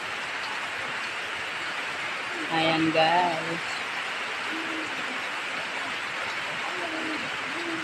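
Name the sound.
rain falling on a mountain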